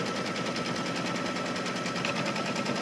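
Embroidery machine stitching around a mug rug held in the hoop, a steady rapid mechanical chatter with a fast even pulse, close and constant throughout, with no voices.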